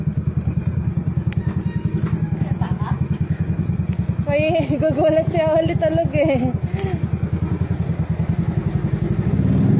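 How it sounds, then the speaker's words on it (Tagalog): A motorcycle engine is started and settles into a steady run of rapid, even thumping pulses close by. Someone talks briefly over it partway through. "tignan nyo ako magpandar ng motor."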